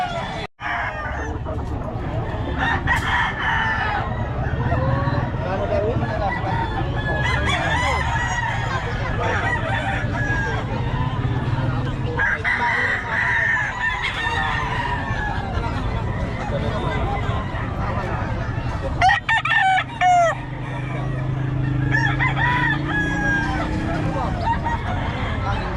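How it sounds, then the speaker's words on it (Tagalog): Gamecocks crowing repeatedly, several roosters calling near and far in long cock-a-doodle-doo phrases, with clucks and low murmur of people talking in the background throughout. "Ito mga manok niya"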